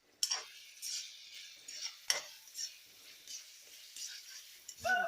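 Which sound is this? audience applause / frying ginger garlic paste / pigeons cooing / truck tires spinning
frying ginger garlic paste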